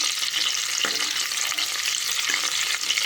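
Whole biryani spices, cloves, onion and green chillies roasting in a hot pan, giving a steady close sizzle with faint stirring scrapes and no talk.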